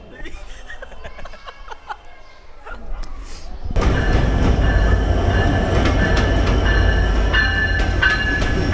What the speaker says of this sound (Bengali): রাশিয়াগামী ট্রেন চলে এসেছে